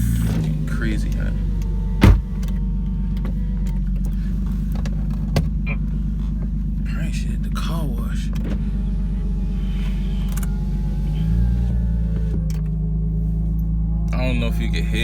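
Lexus IS300 with an upgraded, louder-than-stock exhaust idling and cruising on a hot day, a steady deep droning rumble throughout with a few clicks and knocks, while someone talks briefly.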